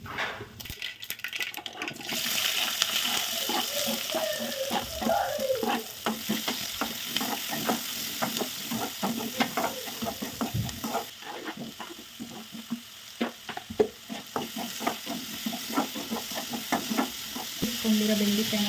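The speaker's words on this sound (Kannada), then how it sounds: "ಸಾಸಿವೆ ಜೀರಿಗೆ ಹಾಕಿದ್ದೀನಿ" Mustard seeds and cumin sizzle and crackle in hot oil in a home kitchen, a busy stream of sharp pops and spits over a steady frying hiss, with a few stirring scrapes.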